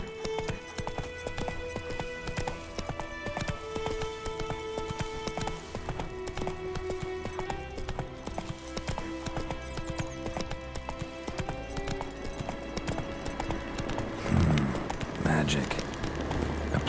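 Hoofbeats of the horse Roach galloping in The Witcher 3 game, a continuous rhythmic clip-clop under orchestral game music, with a snort or whinny near the end and a voice speaking briefly.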